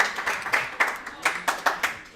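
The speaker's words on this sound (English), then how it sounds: "Can we clap it up for the FBI?" Audience at an indoor track meeting gives a short round of clapping for the FBI, about ten distinct claps in an uneven rhythm, fairly close and not loud.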